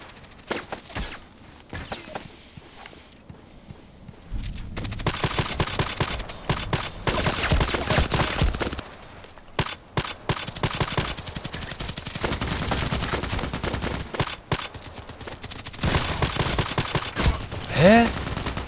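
Gunfire in a shooter video game with a Glock in play: dense bursts of rapid shots and automatic fire crackle loudly and nearly continuously, broken by brief pauses, with some talk in the background.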